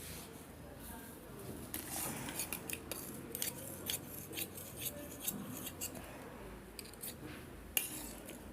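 Scissors snip through blouse fabric in a series of short, crisp cuts spaced irregularly at close range, with quiet room tone and a voice talking faintly in the background.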